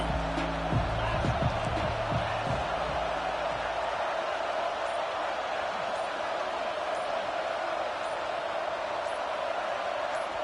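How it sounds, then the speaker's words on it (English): A football stadium crowd at a Louisville versus Michigan game roars in a sustained, loud, broad wall of noise, with a brief burst of band or horn tones at the start. "with this place rocking, the crowd forces a false start"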